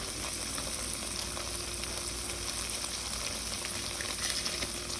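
Salchichon sausage with dry seasoning and ham flavoring sizzles and fries steadily in a pot, a dense close crackle that stays loud and even throughout.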